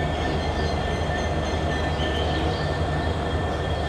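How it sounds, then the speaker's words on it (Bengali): The Titumir Express passenger train on the Rajshahi–Chilahati line runs along with a continuous loud rumble of wheels and carriages, a steady dense roar with no voices. "আর 733 নম্বর তিতুমির এক্সপ্রেস ট্রেন"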